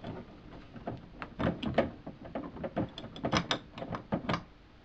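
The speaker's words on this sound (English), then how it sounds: "Lift the guard out." Metal guard being lifted off the number plate light on a Toyota Corolla, giving a run of small close clicks, rattles and scrapes of metal and plastic, irregular and fairly quiet.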